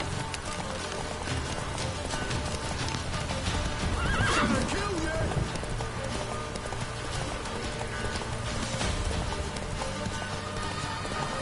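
A horse gallops with steady clip-clop hoofbeats and lets out a whinny in The Witcher 3 on PS4, loud and continuous throughout, layered with game ambience and a brief voice.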